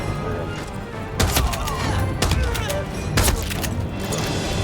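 Gunfire in the Hitman: World of Assassination video game: three sharp, loud bursts about a second apart over a steady, busy background ambience.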